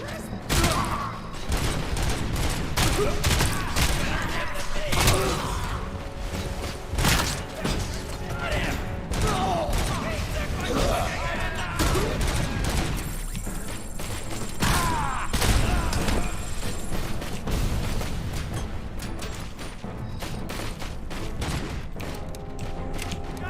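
Machine gun fire erupts in the shooter game Robocop Rogue City, sharp bursts and cracks repeating through a busy firefight with mechanical clatter and thuds, a voice occasionally talking over it.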